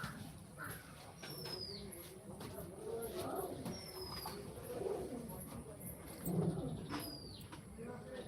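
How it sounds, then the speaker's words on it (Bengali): A pigeon with ankle bells coos softly in repeated low phrases outdoors, with faint chirps and distant ambient noise around it. "এই এটা নতুন পায়রা এই তো ঝুমুরওয়ালা"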